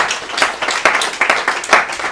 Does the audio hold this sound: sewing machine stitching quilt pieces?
no